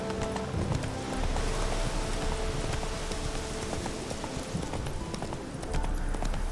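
Roach the horse's hooves clip-clop steadily on the ground in The Witcher 3 game, a brisk close rhythmic trot over a busy wash of ambient game sound, with no voices.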